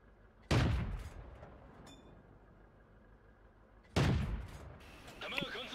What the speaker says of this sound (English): I'm going to take shots at this IS.